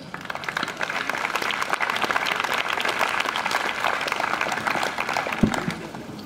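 An audience at an outdoor peace vigil rally in Leipzig applauds to welcome a speaker, steady close clapping from a moderate crowd that holds evenly throughout, with one sharp louder clap near the end.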